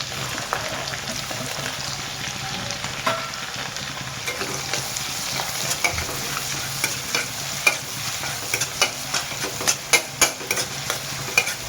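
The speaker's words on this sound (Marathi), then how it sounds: "लसूण टाकल्यानंतर आपण टाकणार आहे कांदा" Garlic and onion sizzle in hot tempering oil with curry leaves for a leftover-rice pulao, a close continuous frying hiss broken by repeated rhythmic clicks and scrapes of a spoon stirring the pan.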